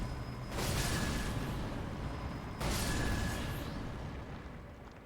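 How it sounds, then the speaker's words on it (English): Explosions in the Elden Ring Shadow of the Erdtree video game come as two loud, broad roaring blasts, each rising quickly and then fading slowly, the second about two seconds after the first. "I knew the explosion was going to hit me"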